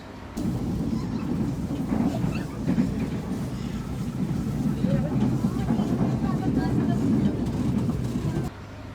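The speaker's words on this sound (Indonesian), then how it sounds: "ketika kereta tersebut melintas di rel dan lewat sambungan rel" New Chinese-made KRL commuter train rumbling steadily over rail joints, a loud continuous low roar with rhythmic clatter lasting almost the whole stretch, heard from inside the car, then cutting off sharply near the end.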